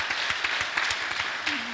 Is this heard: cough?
no